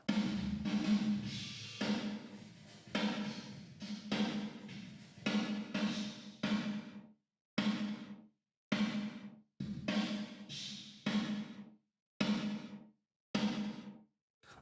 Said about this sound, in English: Let's have a listen to just the reverb, and let's start with not having the gate on.